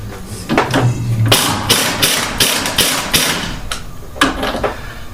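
A power tool pulsed in short repeated bursts on the strut shaft of a Mustang GT during a strut replacement, loud, close and rhythmic over a low engine-like drone.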